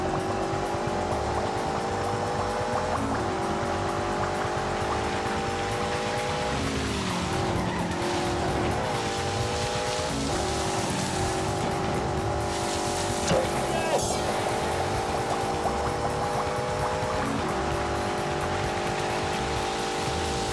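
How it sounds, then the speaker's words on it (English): BMW 8 Series with four-wheel drive and four-wheel steering in The Grand Tour game: a deep, meaty engine drones steadily with rising and falling revs and shifts, tires squealing and skidding through corners, loud and continuous. "it's a meaty engine with lots of low down grunt"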